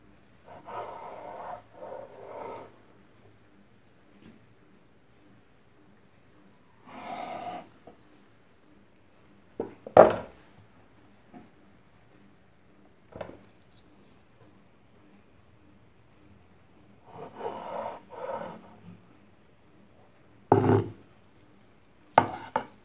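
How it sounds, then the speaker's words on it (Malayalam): A knife cuts rolled puff pastry dough into shape with a few scattered, muffled scrapes and sharp taps on a board, separated by quiet pauses. "ഇത് നമുക്കൊന്ന് കട്ട് ചെയ്ത് ഷേപ്പാക്കിയെടുക്കാം."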